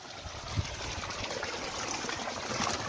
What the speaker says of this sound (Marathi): त्यामुळं हा चांगला 30 मीटरचा चांगला पाणी मारतोय.